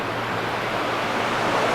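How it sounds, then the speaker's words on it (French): Steady broadband rush of water passing beneath a wooden pontoon on a lake with waterfalls nearby, a continuous close wash with no break or talk. "Il y a l'eau qui passe juste en dessous de nous, regardez."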